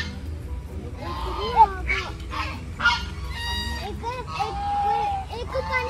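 Ducks at a lake honk and call repeatedly at close range in short bursts, while people talk nearby.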